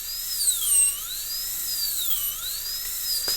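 A dental burr grinds a typodont tooth during occlusal reduction, its high-pitched whine wavering up and down in pitch as the drill speed shifts, steady and close with no talking.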